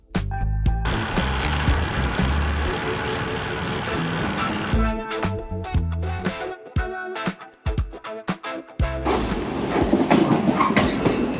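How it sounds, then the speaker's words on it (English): Train on a railway line near Helensburgh Central station in Scotland, loud and close with rumbling and rattling, then a sequence of sharp clicks and clacks as the wagons pass, ending in a steady roar. "we're back at Helensburgh Central, ready to get on the train back home"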